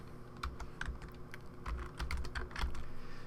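Keys on a computer keyboard being typed into a Photoshop text layer, a steady run of close, crisp taps with irregular rhythm and a low hum underneath, no voice.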